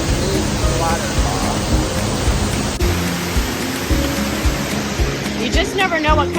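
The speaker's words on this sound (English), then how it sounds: "checking out that amazing waterfall" Waterfall at La Fortuna pouring in a dense, steady roar close by, with faint bird calls above it.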